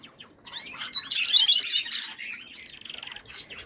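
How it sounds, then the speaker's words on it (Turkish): Canaries and budgerigars chirp and squawk together in a shared cage, a busy overlapping chatter of high tweets and short calls, fairly close and steady throughout. "Bakın burada kanarya var, muhabbet kuşu var."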